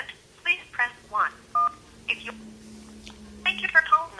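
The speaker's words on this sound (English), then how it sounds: "If you are calling from a touch-tone phone, please press 1." Touch-tone telephone keypad tones on a White House comment line, several short separate beeps spread across the clip with a low steady hum underneath and no voices over the tones.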